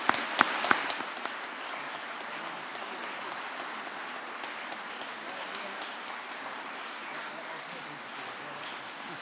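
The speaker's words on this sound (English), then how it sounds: "Please would everyone join me in offering a very hearty round of applause." Applause from a lecture audience at a school hall event: a steady wash of clapping with a few sharp individual claps at the start, moderately distant and continuous for the full duration.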